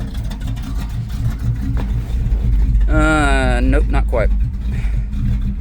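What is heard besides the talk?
1987 Chevy K5 Blazer truck engine running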